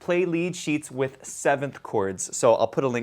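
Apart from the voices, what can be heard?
No everyday noises stand out.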